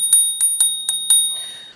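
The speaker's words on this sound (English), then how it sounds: "So we have our rear disc brake, we have our front disc brake, we have our bell right here." The bell on a Segway Max G3 Plus electric scooter is struck five times in quick succession, giving bright metallic dings that ring close and clear. A short fading ring follows the last strike.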